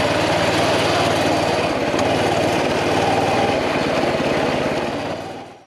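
Kohler Pro 5.5 small engine on a Coleman CT200U mini bike, running steadily at a fast idle with a loud, continuous buzzing drone that holds level for several seconds before tapering off at the end; no talking.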